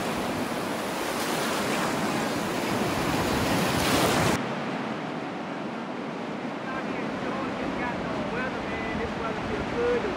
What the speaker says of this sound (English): the waves are a little bit rough